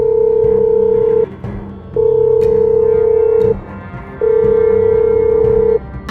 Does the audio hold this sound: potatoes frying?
no